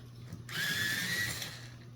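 A coloured pencil is sharpened in an electric sharpener, a close high whirring grind that starts suddenly, runs for about one second and then fades out, over a faint background hum.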